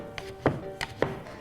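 A knife chops through buckwheat soba noodle dough on a wooden board in a steady trotting rhythm, four soft close thuds within a second and a half, with no talking.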